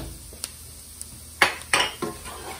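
A spoon stirs flour into onions in a metal pot. There are a few scattered light scrapes and clinks, then two louder scraping strokes against the pan.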